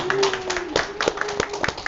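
Brief applause from a lecture audience welcoming a history professor, scattered hand claps heard under a speaking voice.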